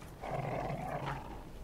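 A dog growls in the video game Dark Souls 3, a low rumbling snarl rising after a brief pause and holding for about a second, moderately loud over a dull background, with no speech.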